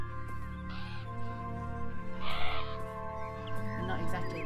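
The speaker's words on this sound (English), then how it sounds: "Crows are dumb." Crows in the video game Beyond Eyes caw in a few harsh, nasal bursts over a steady musical background, moderately close and separated by short pauses.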